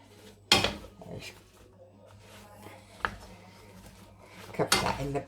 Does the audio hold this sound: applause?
no